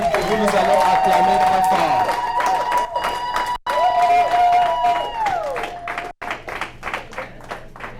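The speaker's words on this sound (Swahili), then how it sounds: "wakati wanasimama sisi tutachapa mikono sana kuheshimisha" Wedding guests clap together in a hall, a dense run of hand claps rising under sustained vocal or music tones that fade, with the clapping growing more distinct and rhythmic toward the end.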